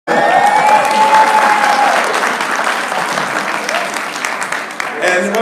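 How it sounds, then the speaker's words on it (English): A town hall audience breaks into steady applause, a dense wash of clapping that starts abruptly and holds fairly evenly, with a brief whistle-like tone early on and faint voices mixed in. "give them both a round of applause"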